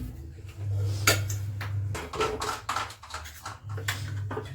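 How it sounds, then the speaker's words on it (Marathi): Two large potatoes, cut into quarters, are dropped into a pressure cooker in a home kitchen, giving several hollow metallic clunks and knocks over a low steady hum. "या ठिकाणी मी दोन मोठे आलू घेतलेले आहेत आणि आता ते मी कुकरमध्ये शिजू घालणार आहे"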